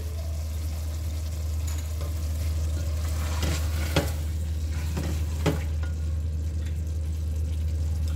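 Aloo matar masala with several spoonfuls of whisked curd sizzling in a pan, stirred with intermittent scrapes over a continuous close frying hiss and low hum.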